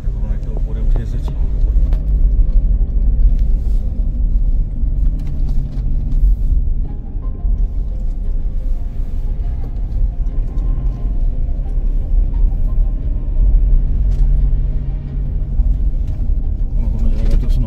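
A new 2025 Toyota Fortuner driving on a mountain road beside a lake on a road trip to Ladakh, with a steady low engine and road rumble heard from inside the cabin, loud and constant, while people talk.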